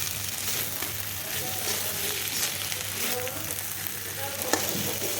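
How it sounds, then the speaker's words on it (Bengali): Dried lotya fish and potatoes fry in a pan with a continuous loud sizzle, while a spoon stirs and scrapes through the mix now and then. "মাছের সাথে ভুনে নিচ্ছি।"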